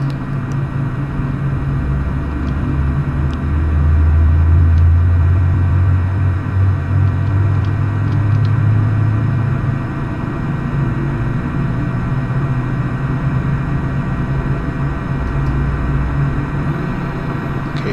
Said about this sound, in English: There goes the second engine.